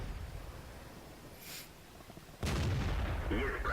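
Tank cannon fire in World of Tanks, a KV-1 battle: a faint crack near the middle, then a loud, sudden blast at about two and a half seconds that rolls into sustained, heavy rumbling battle noise.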